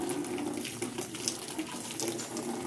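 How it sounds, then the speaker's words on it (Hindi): Water washing a scooter for Vishwakarma Puja, a continuous rushing spray and splash of running water, steady and fairly close, with no speech over it. "अभी स्कूटी धुला रहे"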